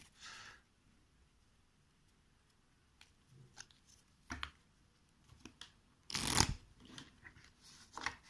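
A well-worn deck of playing cards is shuffled by hand during a tabletop game. Soft, scattered riffles and rustles come in short bursts, with one louder, denser flurry near the end, in a quiet room.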